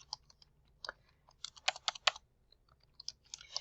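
Quick, close, uneven bursts of typing on a computer keyboard while writing success criteria onto a weekly agenda slide, clustered clacks with brief pauses and no talking.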